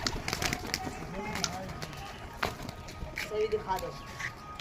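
Ailing pigeons coo softly in short, low calls beneath someone talking nearby, with light scuffling in the background.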